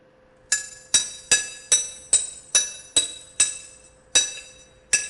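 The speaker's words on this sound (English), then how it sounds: "they're smacking wrenches together" In FNAF: Sister Location, wrenches are smacked together in a steady run of about ten sharp metallic clanks, each ringing briefly before the next strike. The clanks are loud and close, with no talk over them.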